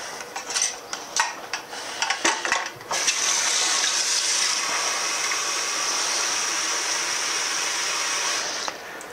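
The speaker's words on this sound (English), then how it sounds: "I'll put those in the sink and get a little water in them." Tap water runs steadily into used prep dishes in a kitchen sink, a loud close hiss after a few clinks and clatters of dishware being set down.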